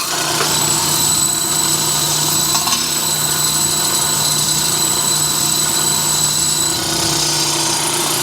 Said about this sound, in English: I'm going to go ahead and clean this up with a wire wheel